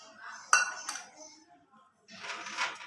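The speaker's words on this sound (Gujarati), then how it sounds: "આપણે ઘી નાખી દઈશું," Ghee poured from a metal bowl into a pan while making mohanthal: two sharp metallic clinks, then a soft scraping and sizzling wash, close by, with no talk.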